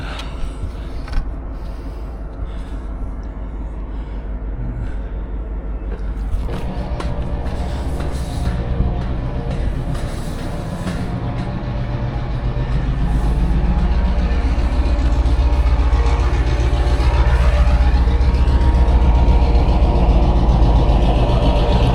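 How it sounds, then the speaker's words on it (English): A NSW TrainLink freight train pulls out of Junee station, its diesel locomotive rumbling low and building steadily louder and nearer, with wheels and wagons clanking over the rails. "there's a freight train leaving"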